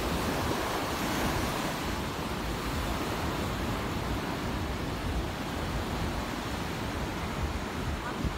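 Ocean surf at Kuta Beach, Bali, around sunset rolls in as a continuous low wash of waves, mixed with some wind buffeting and no clear talk.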